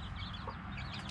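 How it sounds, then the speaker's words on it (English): Backyard hens cluck softly and continuously nearby, a busy low murmur of clucks with a few brighter calls over it. "Right now, my hens are checking her out."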